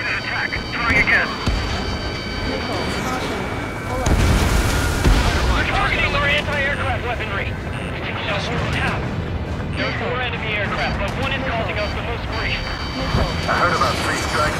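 Missile explosions boom in the video game Ace Combat 7 amid roaring jet engines, with one strong blast standing out partway through, while radio voices talk over the combat.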